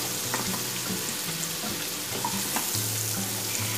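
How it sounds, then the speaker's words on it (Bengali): Masala paste fries in a pan for a Bengali bata fish curry, a steady close sizzle broken by several scraping stirs of a spoon, with no talking. "এটা ভালো করে মশলাটা কষিয়ে নেব।"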